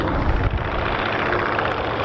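A Polikarpov Po-2 vintage biplane flies slowly overhead at an airshow, its propeller engine a steady, loud drone that holds without a break.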